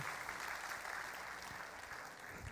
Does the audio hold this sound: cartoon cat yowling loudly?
no